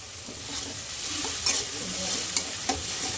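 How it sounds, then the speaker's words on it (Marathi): Curry leaves and ground chilli sizzle in hot oil, a steady close crackle with a few sharp pops and stirring taps. "मी ह्याच्यात कढीपत्ता पण टाकून घेणार आहे."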